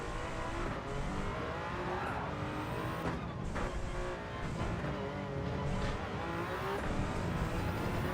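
A racing car engine roars steadily in Gran Turismo 7, loud and continuous with shifting revs and occasional tire squeals, no voices.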